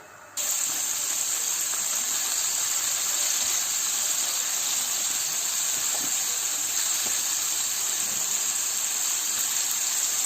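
Chicken leg pieces for KFC-style fried chicken bubble in oil over medium-low heat, giving a steady, continuous hiss and sizzle that holds level for the whole stretch with no voices.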